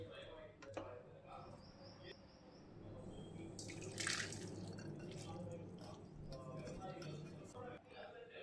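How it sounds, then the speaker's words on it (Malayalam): Boiled noodles for chicken thukpa are strained, with water dripping and trickling steadily through the strainer under continuous kitchen talk. "ഇത് നമുക്ക് സ്ട്രെയിൻ ചെയ്തെടുക്കാം."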